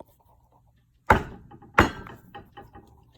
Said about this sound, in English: he came up to the house where the children were and knocked on the door